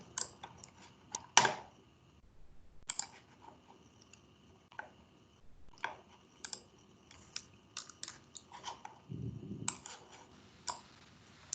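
Clicking of computer keyboard keys, in scattered bursts of quick taps with pauses between, fairly close and moderately quiet, no talking.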